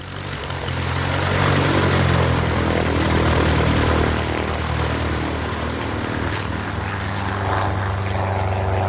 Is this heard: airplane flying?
yes